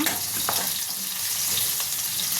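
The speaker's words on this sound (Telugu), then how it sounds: "ఒక రెమ్మ కరివేపాకు వేస్తున్నా. 2 నిమిషాలు ఫ్రై చేద్దాం." Curry leaves and turmeric fry in a hot pan, giving a steady, close, hissing sizzle with a couple of faint pops.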